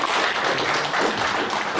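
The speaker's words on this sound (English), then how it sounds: "Let's give a round of applause for everybody who's participated." An audience at an academic publishing symposium applauds with a thick, even wash of many hands clapping together, loud and sustained throughout with no break.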